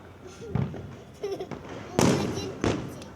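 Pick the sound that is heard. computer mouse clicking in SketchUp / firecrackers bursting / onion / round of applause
firecrackers bursting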